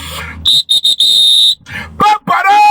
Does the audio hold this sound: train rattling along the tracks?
no